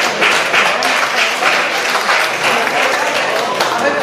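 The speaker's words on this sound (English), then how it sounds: "Clap yourselves again, because this is the last great big festival tonight here." An audience applauds at a final live music night in a pub, giving dense, steady clapping throughout. The applause is loud and close, with crowd noise and voices mixed in.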